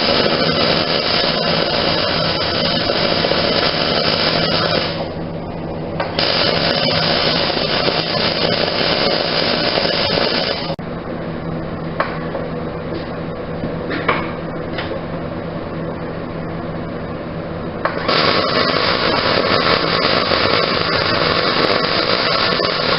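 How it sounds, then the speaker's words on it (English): Welding with a Miller Digital Infinity helmet on, probably on a press brake build: a continuous harsh buzzing arc that runs in long stretches with short pauses and level changes, loud and close, with no voices. "Let me do some welding on this,"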